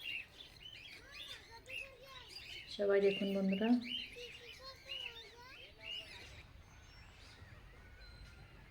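Birds chirping and calling in the Nagpur zoo aviary, a busy layer of high tweets and short calls throughout, with a brief louder squawk in the middle and a voice speaking over it.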